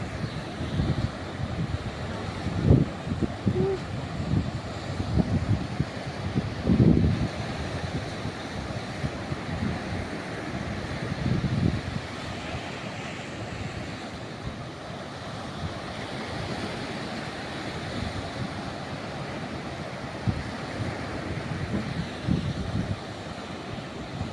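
Big ocean waves surge and crash as a fishermen's boat crosses rough water, with gusting wind buffeting the microphone in a continuous loud roar and recurring swells.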